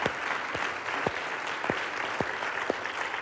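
A church congregation claps hands during a worship teaching, a steady wash of applause with sharper individual claps standing out at regular intervals, with no talking over it.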